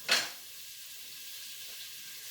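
Butter melting over medium-low heat in a pot for a Creole gumbo roux, giving a steady soft sizzle after a brief louder hiss at the start, close and without voices.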